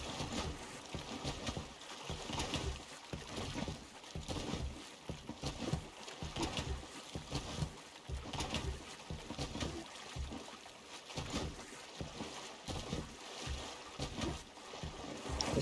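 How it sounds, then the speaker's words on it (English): Water sloshing against a wooden ship's deck in the pirate game Sea of Thieves, a steady churning wash with irregular splashes that runs throughout, moderately close and continuous. "Is that the water? Sloshing against the deck."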